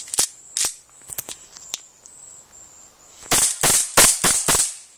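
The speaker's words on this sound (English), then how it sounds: "This is the 1911 Scorpion. Airsoft. Airsoft gun." A 1911 Scorpion blowback airsoft pistol fires a string of sharp, loud cracks: a few spaced shots, then a quick cluster of rapid shots near the end, close and with no talk.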